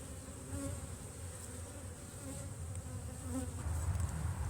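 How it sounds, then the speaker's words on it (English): Honeybees buzz steadily at an open hive, a dense close hum with a faint high tone throughout and no talking. "Some bees, just a little bit of a smoke."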